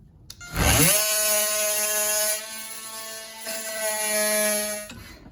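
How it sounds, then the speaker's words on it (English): An oscillating multi-tool cuts the rivet heads off a vent window on an early Ford Bronco, a loud steady buzzing whine starting abruptly and holding for about four seconds, with a brief dip in the middle as the blade bites, then stopping. "Get the multi-tool underneath it, and let's see if we can't cut the heads off these rivets."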